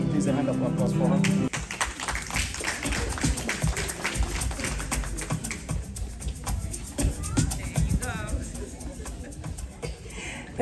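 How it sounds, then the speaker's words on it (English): Scattered hand clapping for a speaker at a nurses' awareness event, lively and uneven, mixed with chatter, laughter and shuffling, with talk heard over it. "please a hand of applause for her"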